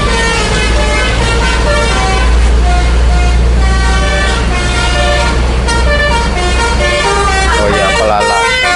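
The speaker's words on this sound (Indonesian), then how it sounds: "Jadi kita dengar basuri lagi nih dari sebelah." A tour bus's telolet horn sounds from a nearby bus while passengers load for an umrah group departure, loud melodic toots over a steady engine rumble and busy background, with people talking.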